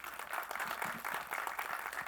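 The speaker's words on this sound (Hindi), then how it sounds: "तालियां।" Audience applause at the Nil Battey Sannata trailer launch, a steady patter of many hands clapping together for about two seconds, moderately loud with no talk over it.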